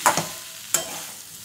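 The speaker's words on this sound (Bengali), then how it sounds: "একটু নেড়ে চেড়ে নেব আলু দিয়ে" Two brief scraping stirs of yam pieces frying in spiced masala in a pan, each followed by a soft, fading sizzle, quiet and close.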